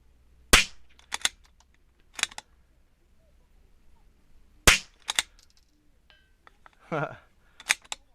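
A .22LR rifle fired while canted, on a quiet outdoor range: several sharp, separate cracks spaced a second or more apart, with faint clicks of handling in between.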